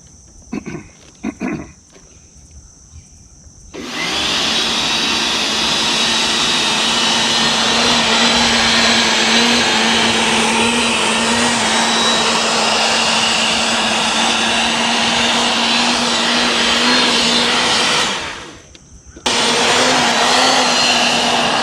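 A garden tiller churns soil in a fall carrot bed, its engine roaring loud and steady after a brief start, then cutting out for a second before roaring on again.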